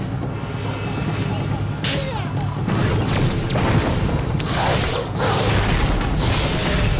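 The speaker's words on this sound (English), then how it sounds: "we're attacking with the rosary" Rosary weapon attacks in the video game Okami, a run of loud impacts and bursts with whooshing sweeps, densely packed over steady game music and effects.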